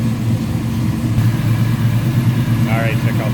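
The 496 engine in a 1972 Chevrolet Chevelle SS tribute idles with a loud, steady low rumble, close by, with a voice briefly audible near the end.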